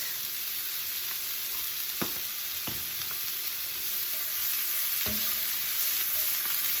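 Garlic fries and sizzles in a pan with vegetables, a steady hissing crackle with a few sharp clinks of a utensil against the pan, close and alone.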